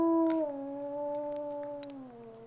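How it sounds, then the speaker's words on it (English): A single wolf gives a long, mournful howl that slowly glides downward in pitch, clear and alone against a quiet background. "And this is Grayson giving out a lone howl."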